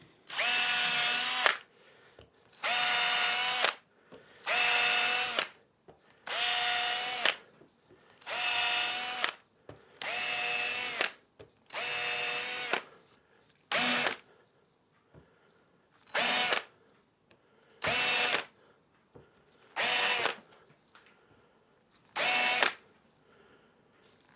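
Power drill driving 30mm screws into a guitar body for a Gretsch 6120-style build, about a dozen separate bursts of whirring, each one to two seconds long with short pauses between, close and clear.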